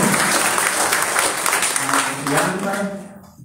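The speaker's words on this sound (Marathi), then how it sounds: "आपण मॅडमचं टाळ्या वाजवून स्वागत करतो" Audience applause welcoming a guest at a National Sports Day school or college function, steady broadband clapping filling the whole stretch with a voice talking over it, then fading out at the end.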